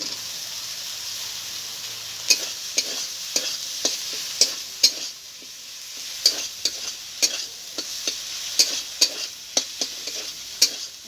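Fried potatoes are stirred into cooked spices in a pan, with repeated sharp spatula scrapes landing at an uneven rhythm over a low, continuous sizzle.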